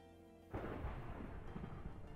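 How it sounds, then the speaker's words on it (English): A sudden loud thunder crack from the Minecraft Cobblemon video game bursts in and rolls on as a dense, sustained rumble. A faint tonal hum sits quietly underneath beforehand. "that was a loud thunder crack in my ears"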